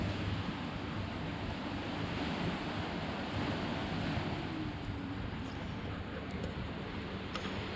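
Ocean surf on a Maldives island resort beach, a constant broad wash of waves with wind rumbling on the microphone, steady and moderately loud, with no talking.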